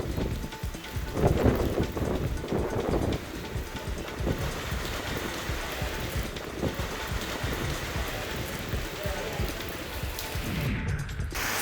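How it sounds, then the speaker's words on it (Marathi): Heavy unseasonal rain with stormy wind lashing the Barshi and Pangaon area of Solapur, a steady dense roar of downpour with gusty swells, and a couple of heavier rumbling bursts near the start. "वादळी वाऱ्यासह पावसाला पुन्हा एकदा सुरुवात झालेली आहे"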